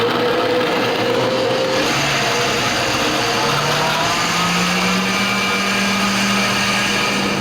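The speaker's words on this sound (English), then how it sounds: "I'm literally going to let the blender do all the work for me." A KitchenAid blender runs steadily on its soup setting, blending carrot ginger soup with a loud continuous motor whir and a pitch that shifts as the speed changes, with no talk over it.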